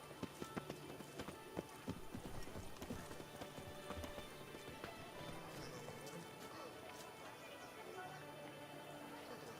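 Horse hooves clip-clop steadily in a video game, a string of quick, sharp hoofbeats close by over a dense, busy game soundscape with occasional crashing hits.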